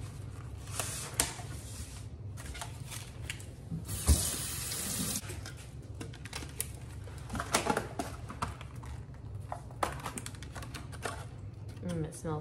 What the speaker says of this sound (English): wash this basil